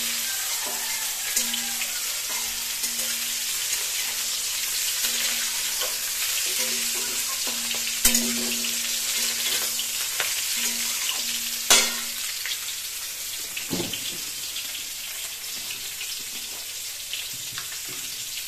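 Cauliflower sizzles steadily in a hot pan for shrimp and cauliflower biryani, a continuous frying hiss with occasional stirring clatter and a brief tap of water running nearby, no voices.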